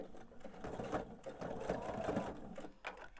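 A home sewing machine stitches a seam joining quilt block pieces, its motor whirring in steady bursts with brief pauses, close and moderately loud, no talking.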